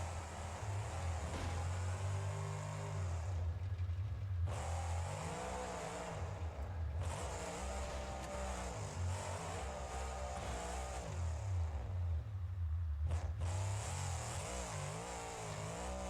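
A monster truck engine roars and revs continuously at a freestyle show, loud and sustained with rising and falling throttle surges and a couple of brief dips, no talking.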